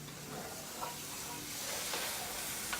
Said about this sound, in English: Just kind of stir that up a little bit.